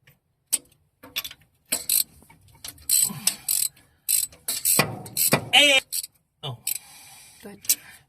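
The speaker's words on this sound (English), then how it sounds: "I'm going to go ahead and pull the spark plugs out." A ratchet clicks in quick bursts while spark plugs are pulled from an engine, sharp repeated pawl ticks coming in short runs separated by pauses, near and clear.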